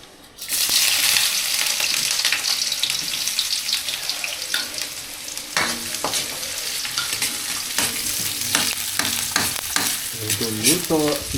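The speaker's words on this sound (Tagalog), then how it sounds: "Gigisa ka." Garlic or food sautéing in a pan with chili nearby, with steady loud sizzling throughout and clinks and scrapes of stirring utensils, mixed with some water running at a sink.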